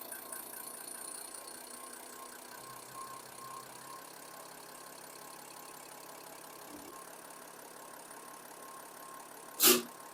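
A Ford F-250 diesel injection pump runs on a test bench, giving a steady mechanical whirr with a faint knocking pulse, close and even, and one sharp burst near the end.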